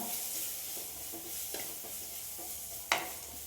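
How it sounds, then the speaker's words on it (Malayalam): Spice powders being stirred into onions in a pan, a soft continuous sizzle with a few scraping strokes of a spoon and one sharper scrape near the end, close and fairly quiet. "ഞാൻ ഈ പൊടി ഒന്ന് ജസ്റ്റ് ഈ ഉള്ളിയിൽ മിക്സ് ചെയ്ത് കൊടുക്കുന്നുണ്ട് കേട്ടോ"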